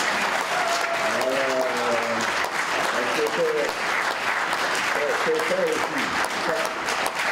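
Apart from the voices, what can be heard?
applause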